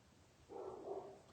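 A fired-up female dog barks in a muffled, somewhat distant burst of a few barks, rising after a brief quiet lead-in and continuing steadily to the end.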